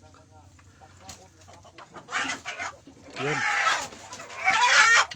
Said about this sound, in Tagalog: Yan, kumukuha na siya ng manok.